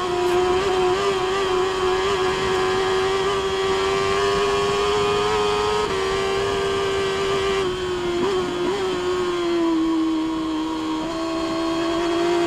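Racing motorcycles at the Isle of Man TT produce a loud, sustained engine drone with a steady pitch that dips slightly at points, heard alone with no voices.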